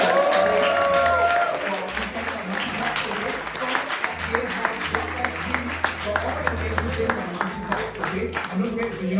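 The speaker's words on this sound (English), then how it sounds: "big round of applause to AFA over there" Applause for the AFA group at a drag cabaret show, an audience clapping steadily with sharper individual claps standing out, while low music and voices carry underneath.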